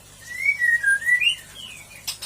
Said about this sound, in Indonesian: ini agak agresif murai batu ya, agak agresif di belakang karena sedang melolot